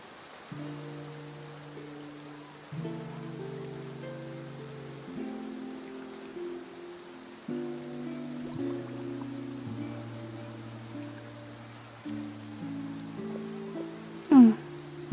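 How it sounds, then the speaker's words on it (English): Soft, steady rain falls in the Fontaine region of Genshin Impact, a faint continuous patter under sustained musical tones, with a brief sharp sound near the end. "Looks like rain."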